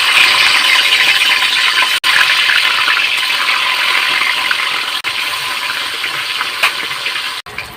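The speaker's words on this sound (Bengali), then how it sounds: "মাছগুলোকে তেলে ছেড়ে দিলাম।" Snakehead fish frying in hot oil in a kadai over a lit wood-fired clay stove: a loud, steady, dense sizzling hiss that runs throughout with no talking.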